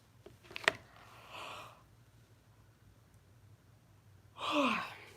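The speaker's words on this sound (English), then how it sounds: "Sorry, I keep on yawning." A person yawns softly, with a long breathy exhale near the end following a quieter intake of breath earlier, the sounds close and isolated with no talk.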